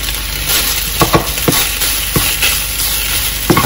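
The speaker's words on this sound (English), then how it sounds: "The rice is starting to fry up nicely." Fried rice sizzles loudly in a hot pan seasoned with sesame oil, a continuous crackle broken by several sharp scraping and tossing hits of a utensil, close up with no voices.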